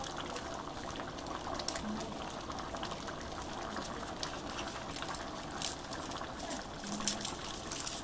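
Sauce simmering in a pot for a bean and meat dish, a steady soft bubbling and burbling with faint crackles, continuous and close, with no voices.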